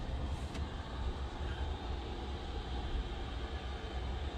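A room heater runs with a steady, low broadband rumble and hiss, continuous and fairly faint, with no talking.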